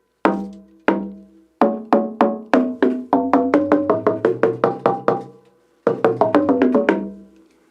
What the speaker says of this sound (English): he's calling these boobams, and they sound like this.